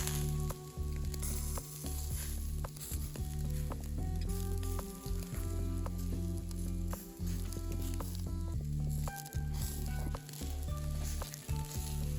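Shashlik sizzling steadily on an outdoor grill in summer, a loud continuous frying crackle with occasional pops and faint clinks throughout, no talking.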